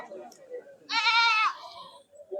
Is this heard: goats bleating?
yes